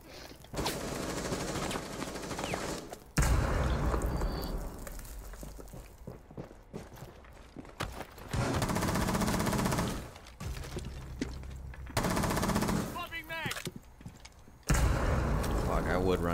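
Rainbow Six Siege gunfire comes in several sharp automatic bursts separated by short pauses, loud and close, with footsteps and voices talking between volleys.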